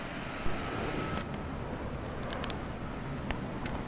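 An Arma 3 fighter jet idles, warmed up on the ground before takeoff: a steady, fairly quiet engine roar with faint clicks on top, and no talking.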